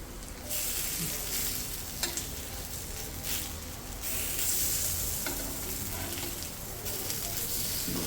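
Slices of yam shallow frying in a pan with masala coating, a steady close sizzle with the crackle of hot oil swelling at moments as the pieces are stirred and turned, no voices.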